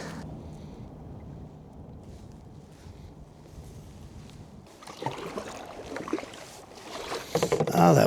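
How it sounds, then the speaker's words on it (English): Wind buffeting the microphone while paddling a kayak on the Suwannee River under a bridge, a steady low rumble that grows louder and gustier toward the end, with water sounds of the paddling. "Oh, that wind."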